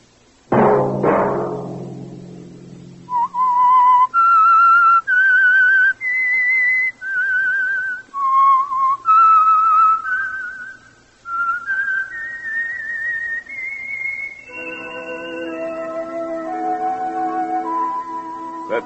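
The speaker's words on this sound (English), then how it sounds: "Let that whistle be your signal for the Whistler each Sunday night at this same time." The Whistler radio show theme: a solo whistled melody of sustained, wavering notes rising and falling, loud and close, preceded by a brief low sound and ending with orchestral accompaniment.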